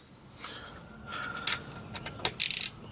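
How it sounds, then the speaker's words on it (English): Body panels coming off a 2018 BMW S1000R motorcycle with a T20 driver: close, light mechanical clicks and short ratcheting bursts, with sharper metallic taps near the end. "we're gonna take these panels off, T20"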